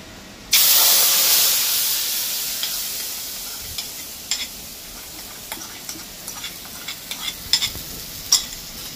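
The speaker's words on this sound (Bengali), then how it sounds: "এই তেলটার মধ্যে আমি একটু জল মেশাবো, যেহেতু এটা দই আছে তার জন্য জল মিশিয়ে এবার তেলের মধ্যে ছাড়বো" Yogurt thinned with water is poured into hot oil for a doi pabda fish curry and erupts into a loud, sudden sizzle that gradually settles into a steady hiss, broken by scattered pops and spatters.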